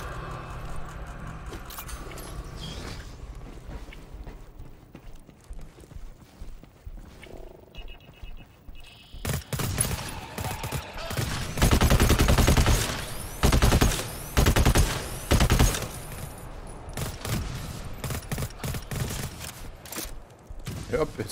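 Automatic machine gun from the co-op shooter GTFO, likely the Hellgun, firing in long loud sustained bursts that start about halfway through, with short gaps between strings of shots.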